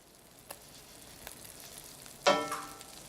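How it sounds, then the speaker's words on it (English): Salmon fillets hit a hot pan skin side down with a sudden loud sizzle that flares up and then settles into a steady crackling fry, after a few faint clicks. "You're gonna wanna hear that sizzle when the fish hits the pan."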